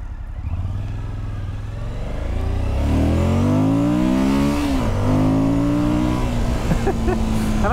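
A 2021 Suzuki V-Strom 1050 XT motorcycle engine revs up through rising and falling pitch sweeps, its airbox producing a loud, close roar that climbs and holds steady while the bike is ridden.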